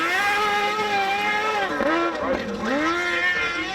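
Small cross car engine revving and shifting pitch as it slides sideways and launches over a jump on a rally course, loud and continuous with rising and falling tones, a commentator talking over it.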